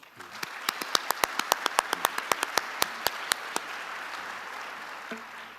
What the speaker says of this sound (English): So just a round of applause for Admiral Cottle